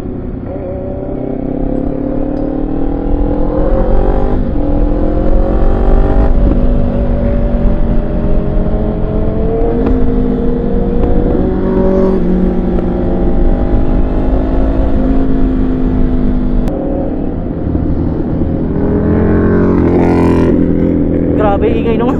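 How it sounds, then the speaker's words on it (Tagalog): A loud motorcycle engine droning and shifting pitch on a group breakfast ride, close and continuous, with rising and falling revs over road and wind noise. "Grabe ingay nung lakas ng motor ni Torque."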